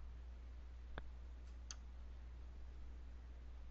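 A computer mouse clicking a link in medical coding software, two faint, quick clicks about a second apart against a quiet background hum, with no talk.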